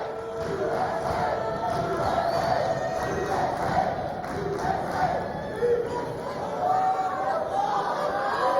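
A packed, rowdy crowd at a Mosconi Cup pool match in America roars, chants and shouts in celebration, a dense continuous wall of voices with rising swells, heard from within the arena.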